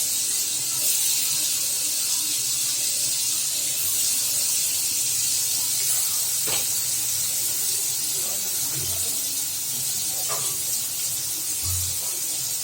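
Slices of ash gourd (chal kumra) sizzle steadily in oil in a hot kadai, a continuous broad hiss throughout with a few faint clinks and soft knocks of utensils.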